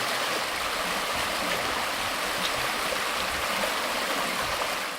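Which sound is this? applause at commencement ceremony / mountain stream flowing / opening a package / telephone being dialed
mountain stream flowing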